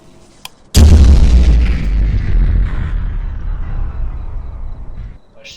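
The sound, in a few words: explosion in Roblox horror video game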